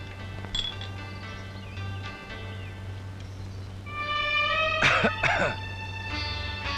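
A man gives two quick harsh coughs close by, with a faint steady hum underneath and a small click just before.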